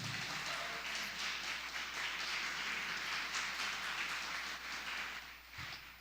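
A church congregation applauds in a dense, continuous wash of clapping that holds steady for several seconds before fading slightly at the end.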